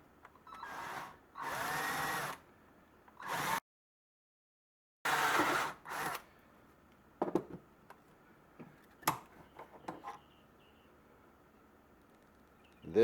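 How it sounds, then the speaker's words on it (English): A power drill with a 1/2-inch bit whirs into a deer antler held in a vise in several short bursts, separated by pauses, followed by scattered scraping and clattering sounds. "the first thing we're going to do is drill that hole"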